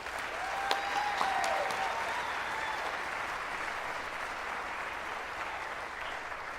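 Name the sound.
applause for the Board of Trustees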